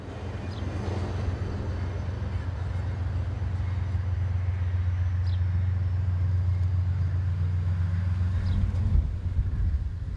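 An Amtrak Capitol Limited train hauled by Genesis P42 diesel locomotives rumbles steadily with a deep, continuous low drone. The idling engines hold constant and fairly close, with faint squeals above.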